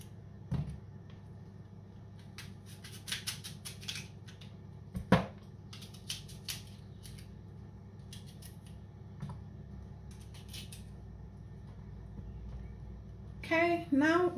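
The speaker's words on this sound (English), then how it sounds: "we're also going to cut the apple to the size of the juicer." Apple cut into pieces on a board for juicing: scattered quiet knife chops and taps, with a few clustered cuts and a louder knock midway, over a low background hum.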